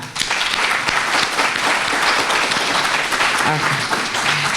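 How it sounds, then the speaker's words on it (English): An audience claps for a WCBM 680 Radio producer at a campaign event for a delegate candidate, with loud, dense applause that holds steady throughout and a voice briefly heard near the end. "Let's hear a round of applause for them."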